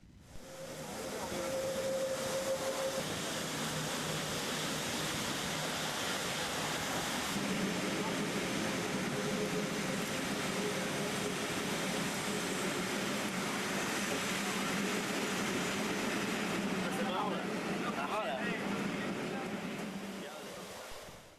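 A metre-gauge Rhaetian Railway train runs along the Bernina line in Switzerland, where track and road share the way, giving a steady, loud rolling rumble that holds for about twenty seconds with a faint tonal whine early on.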